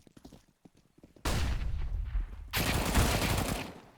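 Rifle gunfire from a Counter-Strike match on the Inferno map: faint scattered shots and footsteps, then two loud sustained bursts of automatic fire, the second starting after a brief gap, close and dense.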